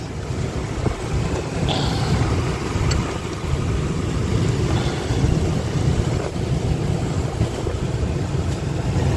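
A worn-out outboard engine on a small boat drones steadily at sea, its rough low rumble mixed with wind buffeting and water noise throughout, with no talking.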